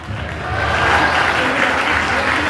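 Church congregation at a Sunday meeting breaking into sustained applause and cheering, a broad, steady wash of many clapping hands with crowd voices mixed in.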